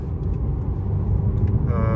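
Low engine rumble of a Mercedes E350 with a 2.0 petrol engine pulling under acceleration from inside the cabin, steady and close, with a faint tonal whine rising near the end.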